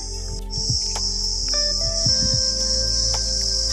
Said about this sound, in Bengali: এখানে দেখছো ঝিঝি পোকা কেমন ডাকছে